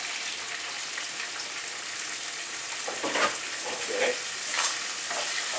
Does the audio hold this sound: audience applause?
no